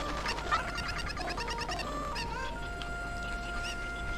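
Cuccos clucking in Zelda: Ocarina of Time on the N64, a quick flurry of squawky game-chicken cackles over looping background music, fading as it goes on.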